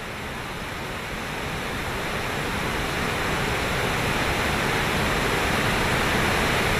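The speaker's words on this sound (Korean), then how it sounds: "멀리서부터 들려오는 폭포 소리는 사람들의 마음을 부쩍 흔들어주는데" A waterfall at Masikryong roars in a steady, unbroken rush of water that swells slightly louder toward the end, with no voices.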